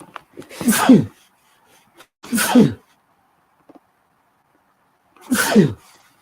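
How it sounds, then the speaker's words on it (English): Three loud sneezes close by, the first two about a second and a half apart, the third after a longer pause. "Excuse me, I got sneeze."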